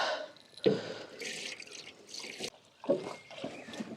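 Homemade plant liquid manure draining and dripping in a garden, with scattered soft drips and splashes at an irregular pace, some louder drops standing out among quieter trickling.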